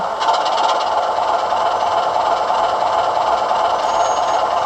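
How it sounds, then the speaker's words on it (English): A steady Class 25 diesel engine rumble from a Heljan model locomotive sound decoder, with a constant mechanical hum and hiss, running continuously at an even level without change in pace. "Function 8 is engine on, which is used when the driver is about to pull away with the train."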